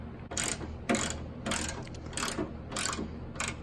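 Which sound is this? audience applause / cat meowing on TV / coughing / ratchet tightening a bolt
ratchet tightening a bolt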